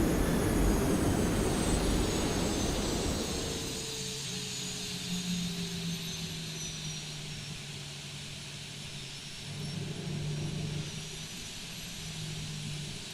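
An airplane flies in the Cyberpunk video game, its engine a loud, broad roar at first that settles into a steady, continuous drone for the rest of the stretch.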